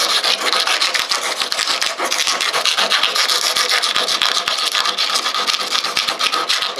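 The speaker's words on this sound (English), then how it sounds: "what I'm using here is just a small wood rasp, but it works pretty good to clean up the edges" A small wood rasp files the edges of a cast piece made of polyurethane resin and fiberglass, giving a steady, close, continuous scraping rasp with quick back-and-forth strokes and no pauses.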